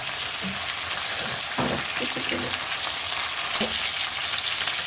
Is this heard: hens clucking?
no